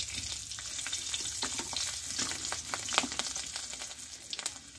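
Garlic cloves fry with whole cumin seeds in hot oil, a fairly quiet continuous sizzle scattered with small pops and crackles, close by and without speech.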